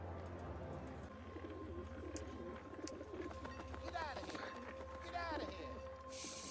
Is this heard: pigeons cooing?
yes